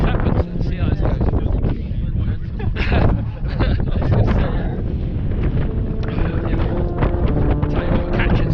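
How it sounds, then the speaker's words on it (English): Strong wind buffeting a microphone on the exposed hilltop of Pendle Hill, loud continuous roaring gusts throughout. "we're catching some wind up here"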